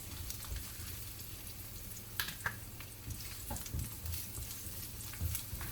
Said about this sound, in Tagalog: lagyan na natin ulit ng sibuyas